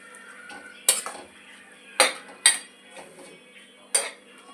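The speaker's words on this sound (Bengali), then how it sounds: "মোচাটা সব দেওয়া হয়ে গেছে, একটু নাড়িয়ে দেবো।" Banana flower stirred in a wok, with sharp metal clanks of the spatula against the pan at irregular intervals over a quiet background, close and fairly loud.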